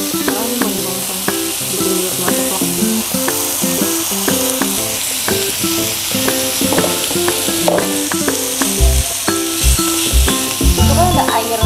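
Kimchi fries in a hot pan for a Korean vegetarian dish, giving a loud, steady close-up sizzle with scraping and stirring clatter throughout and heavier thumps near the end.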